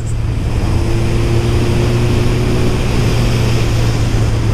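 A Suzuki GSX-R 1000 motorcycle engine while riding on the road: a loud, steady, close engine drone with rushing wind noise, holding an even level throughout with no talking.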